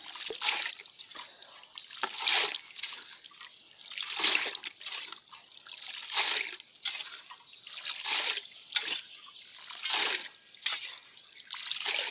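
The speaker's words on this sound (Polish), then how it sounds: "Dolejemy trochę wody jeszcze." Water poured and sloshed in a gold panning dish, rhythmic splashing surges about every two seconds with trickling and dripping between them, close and fairly clear.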